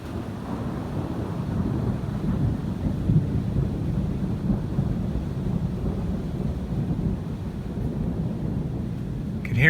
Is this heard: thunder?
yes